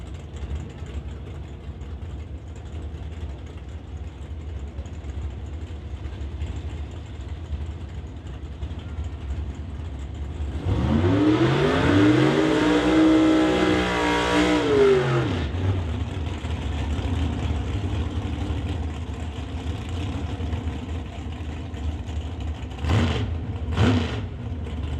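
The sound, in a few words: drag race cars launching, Evans Excavating Nova vs Blue Max Bel Air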